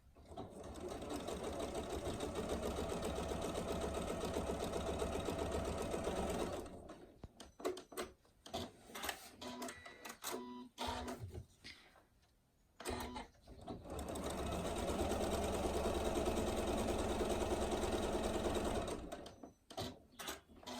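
Sewing machine stitching 1/4 inch seams down each side of a folded 5 by 10 inch fabric pencil pocket: two long steady runs of rapid motor-driven stitching, split by a stretch of quieter handling clicks and pauses.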